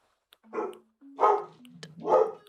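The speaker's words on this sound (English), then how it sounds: "I'm so sorry if you guys hear my dog." A dog barks three times close by, each bark a short, gruff burst with brief pauses between, loud and clear with no talking over it.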